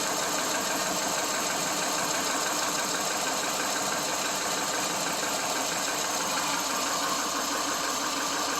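A 2001 Subaru Legacy engine idles steadily and close by, a constant rumbling hum with a faint mechanical ticking, no voices.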